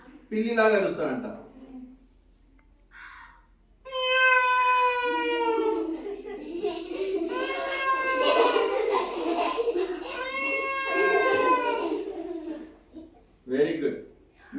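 A child mimics a cat with drawn-out, wavering meows, a few long cries separated by short gaps, close and clear with no other voices.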